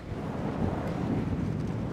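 Hot desert wind buffets the microphone in a scorching Iranian desert, making a steady, loud, low rumbling roar with no voices.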